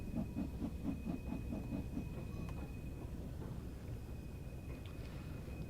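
Steam locomotive in the Train Sim World 3 game, a West Cornwall local railtour, rolling slowly forward near a viaduct: a steady low rumble with soft rhythmic chuffs early on and a faint hiss, no talk.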